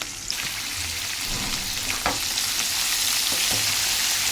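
Ivy gourd pieces fry in a pan with a constant loud hiss of oil, broken by occasional scraping knocks as they are stirred.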